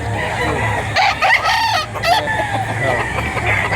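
Rooster crowing loudly at a poultry market in Lipa, Batangas, with several crows and clucks from nearby birds over a busy background hum and someone talking.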